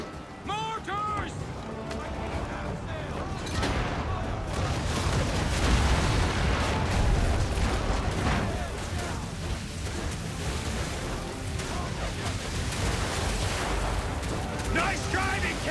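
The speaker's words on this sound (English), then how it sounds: "Mortars!" Mortar shells burst around a ship in the Assassin's Creed 3 video game, with deep booms and crashing splashes in rapid succession under continuous excited talking and shouting.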